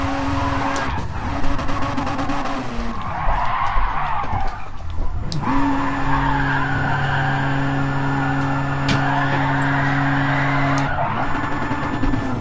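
A Gran Turismo car slides sideways through a drift, loud tire squeal rising and falling in long swells over a steady engine hum, with a short lull midway before the screech resumes.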